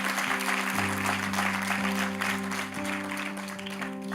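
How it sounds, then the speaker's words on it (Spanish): A church congregation at a Spanish-language sermon claps over a sustained organ or keyboard chord, dense and fairly even applause mixed with the steady music, with no clear voices. "Si va a aplaudir, apláudalo de verdad."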